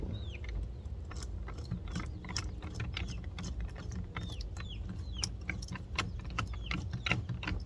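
A fastener on a 2015 GMC Canyon engine air filter housing is loosened, giving quiet, close bursts of rapid ratcheting clicks in an irregular rhythm.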